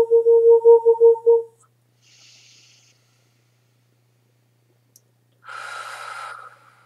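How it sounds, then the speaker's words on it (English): Slow breaths during a guided energy-transmission meditation: a soft, faint exhale, then a louder, breathy rush of air near the end, following a short hummed or tonal vocal passage. "Just breathing."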